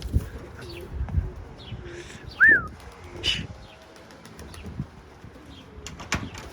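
Pigeons coo and flap their wings outdoors during a storm, with soft cooing calls, occasional chirps and bursts of wingbeats over a gusty, uneven background.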